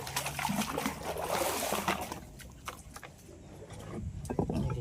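Water trickles and splashes steadily from an outlet as it flows in to give buffalo and cattle a drink, a close, continuous dribbling stream with no talk.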